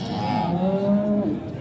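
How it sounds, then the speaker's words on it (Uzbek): A cow at a busy livestock market gives a single short, loud, close moo that bends downward in pitch and fades at the end. "Mana endi gigant sigirlar qatoriga kirib ketamiz."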